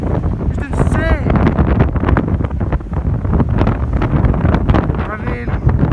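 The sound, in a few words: wind blowing at a small beach bay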